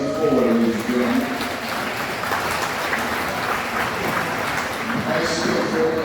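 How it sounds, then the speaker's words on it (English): A crowd at an awards ceremony applauds steadily, the clapping loud and sustained throughout, with some voices mixed into the noise near the start. "Would you give her a round of applause as she comes forward"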